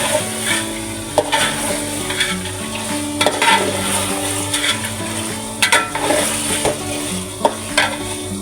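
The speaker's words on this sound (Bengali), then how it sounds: "এখন আমি মাংসগুলো মশলার মধ্যে আগে ভালো করে কষিয়ে নেব।" Beef pieces stir-fried in spices for beef kosha, a steady loud sizzle with a spatula scraping and clanking in the pan at intervals, close up and without talking.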